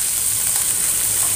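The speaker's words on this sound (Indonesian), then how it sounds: "Ini setelah bumbunya ditumis" Spice paste sautéing in a pan for a coconut-milk breadfruit vegetable dish, giving a steady close hiss and sizzle with no talking.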